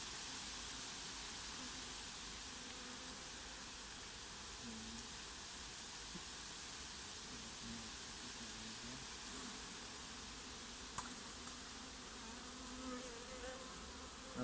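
A steady, low insect buzz of many honey bees at a hive hums continuously and fairly quietly, with a faint click or two near the end.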